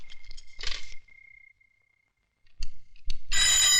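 An old telephone rings in a home in a 1993 film, in two short, bright, close bursts separated by a quiet gap.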